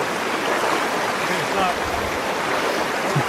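Cold river water rushes steadily through a black-water creek during a crossing, a broad continuous wash of flowing current close by with no talk over it.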